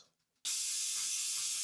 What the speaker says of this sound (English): We'll get all these wee bits and pieces into the sonic cleaner.